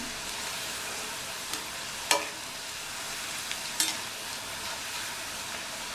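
Snake gourd stir-frying in a pan for a Tamil pudalangai fry, a steady close sizzle with a couple of brief scraping clinks from stirring, no talking.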